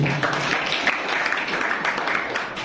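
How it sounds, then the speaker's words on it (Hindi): Audience applause at a school farewell competition, a steady wash of many hands clapping throughout, fairly loud and continuous with no talk over it. "संजय तालियां बजाएं।"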